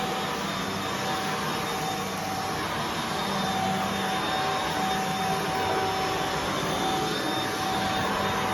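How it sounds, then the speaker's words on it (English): A vacuum cleaner hoovers a room indoors, a loud continuous drone with a steady high whine holding throughout without pause. "now next job is to have a good hoover around"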